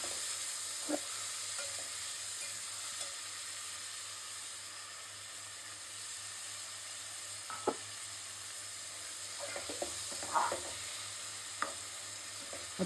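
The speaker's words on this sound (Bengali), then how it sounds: "আপনাদের পেঁয়াজটা হালকা ভাজা দিয়ে দেখাবো পরে।" Onions frying with bay leaf and garam masala in a pan for a white beef curry, giving a steady soft sizzle with a few sharp scrapes and clicks of stirring, and no talk.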